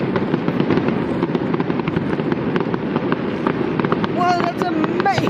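Fireworks exploding over a riverside, a dense barrage of rapid cracks and booms over continuous rumbling, with whistling streaks rising near the end and voices faintly in the mix.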